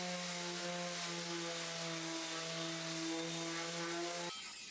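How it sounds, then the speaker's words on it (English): A power sander works over a wooden table, whirring steadily with a harsh, hissing drone and a constant hum, running for several seconds before stopping abruptly. "begin to sand the entire thing down for the final"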